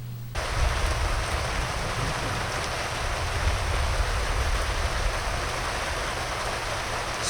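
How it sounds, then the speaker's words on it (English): Steady rain of a thunderstorm pours down in a constant hiss, dense and even, with no voices or other distinct sounds. "It started raining, and we got thunder and lightning."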